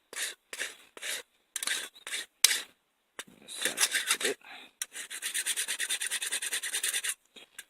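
A coarse file rasps across wooden edges of a one-handed book reader to round them, coming in short separate strokes at first and then a fast steady run of back-and-forth scrapes, close and dry.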